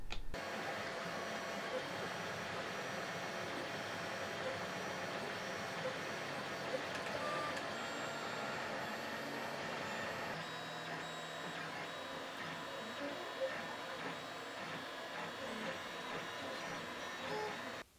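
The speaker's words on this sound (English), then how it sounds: "So I actually want to print this thing first and we'll see how it looks" A 3D printer prints robot hand parts with a continuous whirring motor hum and faint stepping tones, steady and close throughout.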